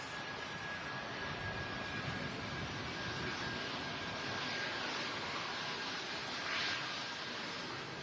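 Loganair airliner departing runway 23 left at Manchester, a steady, distant jet roar that holds at an even level for several seconds.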